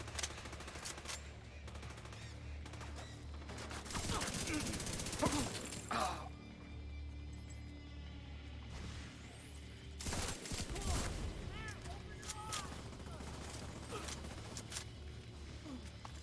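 Enemy gunfire rattles in the shooter game Division 2 as rapid automatic bursts and loud impacts that swell and fade over a steady game soundscape.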